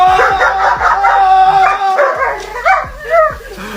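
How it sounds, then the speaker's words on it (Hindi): A dog barks loudly and repeatedly at close range, loud sharp yips and barks with whining in between, as it reacts to its owner being pranked with a vacuum cleaner pipe. "तभी उसका कुत्ता अपने ओनर को बचाने के लिए जोर जोर से भौंकता है"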